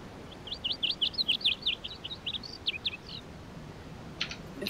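In the video game DayZ test patch 0.62, a bird sings a quick series of bright, rising chirps, fairly close and clear, followed by a short pause and a few sharp higher notes.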